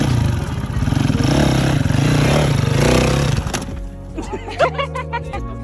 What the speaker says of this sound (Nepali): बाइक रेसिङ नै भइरहेछ जस्तो